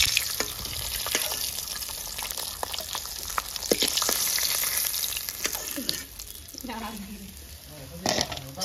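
Pieces of large rita river fish frying in hot oil give a steady close sizzle with crackling pops and spatter, broken by a few clinks and scraping stir sounds near the end.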